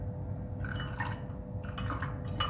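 Water added to a dolma filling mixture with salt while cooking, with soft splashing and dripping bursts mixed with light clinks of a pot or utensil, close and moderately quiet, with no talk.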